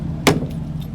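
Keys jangle once, sharp and close, for a 2009 Dodge Charger R/T police car, followed by a low idle-like hum; no clear engine start follows.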